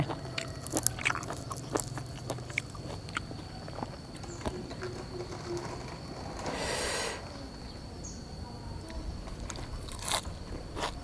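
Crunchy chewing of a spicy Thai pounded salad with squid tentacles and fermented fish sauce, close and moderately loud bites, crunches and wet mastication in an irregular rhythm, with no talk.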